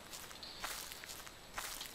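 Footsteps walking through the Slender horror game, a few soft crunchy steps on leafy ground, fairly quiet and heard alone without talk.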